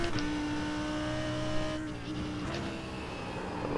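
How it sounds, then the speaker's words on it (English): A GT3 race car engine in iRacing at the Nürburgring holds a steady high whine at speed, its pitch shifting slightly as it changes gear, with faint tire squeal mixed in. "Love the way this car sounds, very raw."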